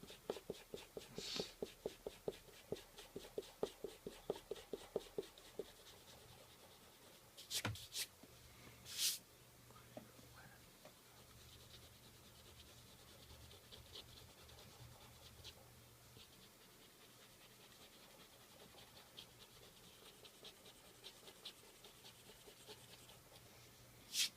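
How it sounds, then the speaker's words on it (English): An eraser rubs pencil lines off an inked drawing on paper, a faint, steady scratching with quick rhythmic back-and-forth strokes and a few louder scuffs, close and quiet throughout. "Just going to erase the pencil lines so that I can kind of look at the ink lines on their own."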